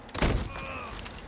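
Gunfire in the open-world video game Sleeping Dogs, a short loud burst of shots near the start followed by a lingering ringing tail.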